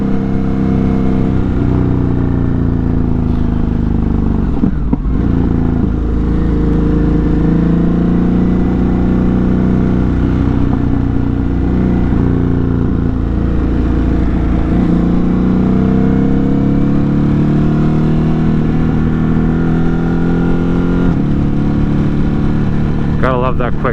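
Ducati Hypermotard 950 RVE motorcycle accelerating hard through urban streets, its engine rising in pitch through quick-shifter gear changes with short dips between shifts, loud and continuous under wind noise, with a rider talking over it.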